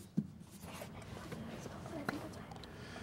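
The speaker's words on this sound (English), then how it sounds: "Contestants, you have 10 seconds to write your answer starting now." Pens or pencils scratch answers onto paper as middle-school quiz-show contestants write during a ten-second countdown, a faint, steady scribbling with a soft tap near the start, set against quiet room murmur.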